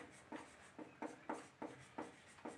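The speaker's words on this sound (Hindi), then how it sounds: "तो यहाँ अब हम लिखेंगे" Chalk or marker strokes on a board during a class 10 height-and-distance math lesson, about six short rhythmic scratches in quick succession, close and fairly quiet with no talking.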